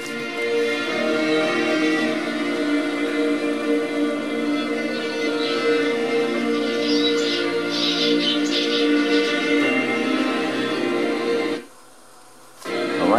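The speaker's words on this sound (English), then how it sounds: "I think there's something wrong with the fan. That's the grinding sound you're hearing." A faulty laptop fan grinds steadily in the background of a room, a continuous whirring drone with a rough, tonal hum that holds for about eleven seconds before cutting out briefly, then resuming.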